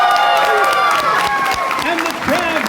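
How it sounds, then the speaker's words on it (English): Comic-con panel crowd at Hydra Comic Con breaks into loud, continuous clapping and cheering, a dense wash of applause with raised voices mixed through it, close and sustained throughout. "And the crowd goes wild!"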